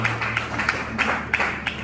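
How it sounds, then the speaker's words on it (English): A group claps for itself at a cohort mentorship session, a scattered, moderately loud patter of hands over a steady low room hum. "you guys should give yourselves a round of applause"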